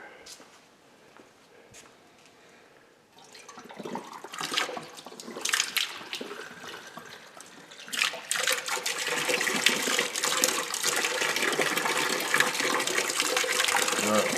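Coolant cleaner and water are flushed through a car heater core. A faint trickle swells into a loud, continuous gushing that keeps building toward the end, with people talking throughout.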